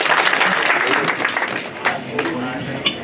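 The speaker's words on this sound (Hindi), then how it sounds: "जोरदार तालियां" Audience applause at a welcome function for a state youth minister in Mussoorie, a dense burst of clapping with some talk mixed in, fairly loud and continuous for about three seconds.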